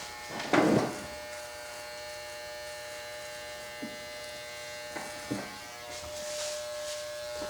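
Electric hair clippers buzz steadily through a military-style faded flattop haircut, a continuous close hum with a louder burst near the start and a few brief bumps as the blades move across the head.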